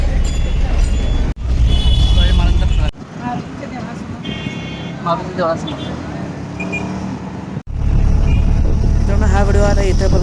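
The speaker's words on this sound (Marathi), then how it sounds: "आपण इथून रिक्षानं जाऊया" Ride in an auto-rickshaw to Vikramnagar: a loud, steady engine and road drone with traffic noise, briefly cutting out twice, while people talk over it.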